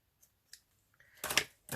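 Blunt scissors cut through paper for a collage, with a few faint clicks followed by two louder, crunchy snips close up and no one speaking.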